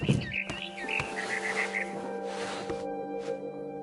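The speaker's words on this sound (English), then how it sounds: "Then I heard chirping outside my window. It was a barn swallow going back to her nest." A barn swallow chirps outside a window as she returns to her nest, giving a short run of quick, fairly faint tweets over a steady low background hum.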